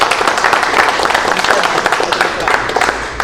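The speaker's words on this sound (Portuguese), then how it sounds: "Uma salva de palmas, né," Audience at a casual live music gathering gives a round of applause, loud uneven clapping mixed with voices and cheering close by.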